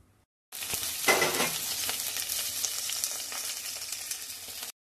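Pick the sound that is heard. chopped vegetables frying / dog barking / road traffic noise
chopped vegetables frying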